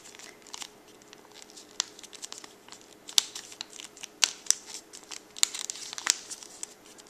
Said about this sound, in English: I'm going to take my paper, I'm going to fold it over. I'm going to tuck it into this little triangle